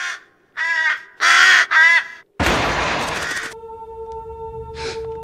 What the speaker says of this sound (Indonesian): burung gagak yang sedang memakan bangkai zombie